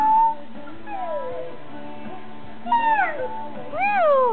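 A voice imitates a cat, giving a couple of drawn-out, rising and falling meows, the last one loud and clear.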